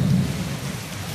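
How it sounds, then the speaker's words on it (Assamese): Heavy rain pours steadily with rolling thunder underneath, a dense, loud and continuous roar filling the whole stretch with no voices. "এইফালে পুৰা নেৰানেপেৰা বৰষুণ"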